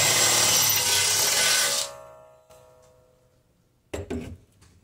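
A power drill bores a hole with the next size bit in a drill index while installing a flag bracket, a loud grinding whir for about two seconds that winds down, followed by faint clicks and a brief rattling clatter.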